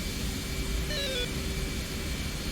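Steady whining hum of an aircraft auxiliary power unit running in the DCS flight simulator, a constant tonal drone with a brief rising chirp partway through.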